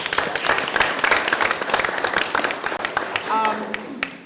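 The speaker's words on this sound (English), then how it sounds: "Let's give her a round of applause" Attendees at a Springfield Local Schools board of education meeting give a round of applause to welcome a new staff member. Close, dense clapping fills most of the stretch, then fades as a person starts speaking.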